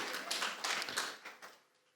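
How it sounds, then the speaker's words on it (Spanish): Applause for the Lord rises from a church gathering, a soft, fairly distant patter of many hands that swells for a second and then fades away. "Denle un aplauso al Señor"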